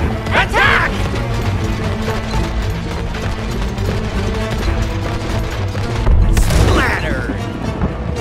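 Cannons boom and crash during a naval battle in the video game It Takes Two, a dense, continuous barrage of loud impacts and mechanical clatter with a couple of sharp bursts near the start and end.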